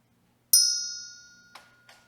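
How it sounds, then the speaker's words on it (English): A single quiet bell struck once at a storytime session rings out clearly and decays slowly over the next second, followed by two faint soft taps, with no talking. "So it's a quieter bell this time because last time it was a little loud."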